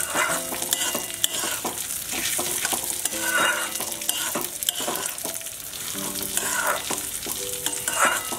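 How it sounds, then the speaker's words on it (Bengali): Basanti pulao rice fries in ghee in a pan, a steady close sizzle with scraping spatula stirs and clinks throughout, no voices. "একটু বেশিক্ষণ ভাজতে হবে"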